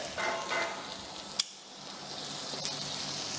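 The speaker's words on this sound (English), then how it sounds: "you can see pan sear it for a while" Chicken breast sears in a hot pan with a steady low sizzle and frying crackle, one sharp tap of a utensil at the halfway point and a faint click near the end, quiet and close.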